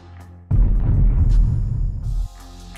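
A deep, rumbling explosion sound effect with its high frequencies cut erupts abruptly and roars for nearly two seconds before cutting off, muffled and bass-heavy with little high-end crackle.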